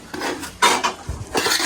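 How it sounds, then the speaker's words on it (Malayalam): Dishes and pots clatter in a home kitchen as a vessel is fetched for fish, with several short bursts of clinking metal and scraping, fairly close and loud, and no talking. "ഉമ്മ അവിടെ മീനെടുക്കാൻ പാത്രം എടുക്കുന്നുണ്ട്."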